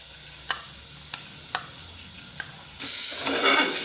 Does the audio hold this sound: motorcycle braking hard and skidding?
no